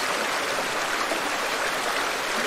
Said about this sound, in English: I'm looking at a beautiful mountain river stream really